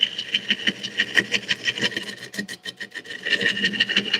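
A roughing gouge cuts a spinning piece of wood on a lathe, producing a steady rasping scrape with rhythmic pulses as the blank rounds out, close and fairly loud, with no talking.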